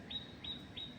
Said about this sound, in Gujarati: પણ મને સંભળાય છે. મસ્ત પક્ષીઓનો અવાજ આવે